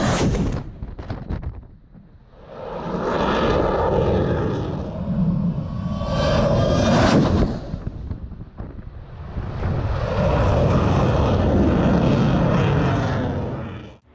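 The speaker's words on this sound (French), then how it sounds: "Voici l'avion de chasse de la marine américaine, appelé l'Ange Bleu." A US Navy Blue Angels fighter jet roars past in two long, loud swells of broadband jet noise, each rising and fading, with wind buffeting the microphone at the start.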